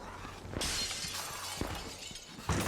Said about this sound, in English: I sure hope I don't make a lot of noise crashing through these doors that could cause zombies to hear and come over here